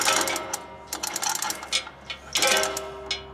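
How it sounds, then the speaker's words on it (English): A hand crank winds up a magnet pull-force tester for forklift magnetic sweepers, giving bursts of close ratcheting, clicking mechanical whirs separated by short pauses. "Okay, so I'm gonna start cranking up"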